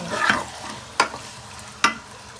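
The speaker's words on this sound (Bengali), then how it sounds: "মশলাগুলো ভালোভাবে কষাচ্ছি" Spices being fried and stirred in a pan for a Bangladeshi khichuri and meat dish, heard as a few sharp scraping stirs, three distinct strokes spaced about a second apart over a steady close sizzle.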